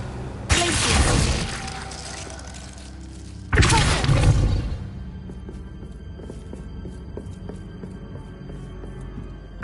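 The Glacius freezing spell in Hogwarts Legacy on PS5, two loud bursts of icy crackling shatter about three seconds apart, each fading into quieter game ambience with light clicks and thuds.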